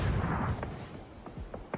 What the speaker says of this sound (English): Oh, good nades.